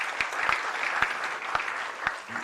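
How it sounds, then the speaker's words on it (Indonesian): A church congregation claps for God during a sixth-anniversary worship service. The applause is brief and moderately loud, with a few distinct sharp claps standing out from the steady patter. "Berikan tepuk tangan bagi Tuhan."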